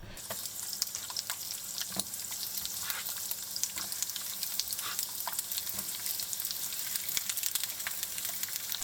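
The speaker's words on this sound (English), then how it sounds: "Heat oil in a pan over medium heat and fry the green beans and eggplants." Green beans and eggplants fry in hot oil in a pan over medium heat, giving a steady, dense sizzle with crackling pops throughout, close and continuous with no voices.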